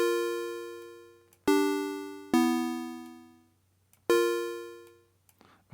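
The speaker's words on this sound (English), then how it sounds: "we just get this very little sharp bell plucky sound" A sharp, plucky bell tone programmed in the Vital software synth sounds as four separate notes. Each note strikes brightly and rings out in a smooth decay, alone with nothing else heard.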